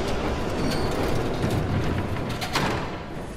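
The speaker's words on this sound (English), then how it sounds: "It waits until the train like fully pulls up to get out of the way." A train in the video game Batman: The Telltale Series rolls up and comes to a stop, a loud steady rumble of wheels and cars with faint metallic screeching and no talk.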